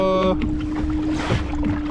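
Strong wind buffets the microphone at sea during kayak fishing, a steady loud roaring gust with water noise beneath, as a brief tonal sound fades at the start.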